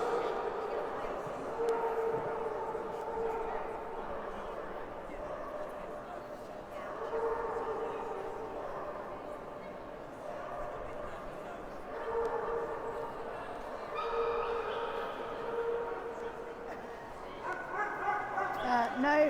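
Dogs bark and yip at an indoor dog show, with whimpers mixed in under steady crowd chatter and announcing voices.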